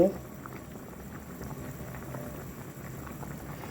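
Pork bones simmering for a salty Thai pork bone soup, a low, steady bubbling boil heard close and continuous, with a brief voice at the very start.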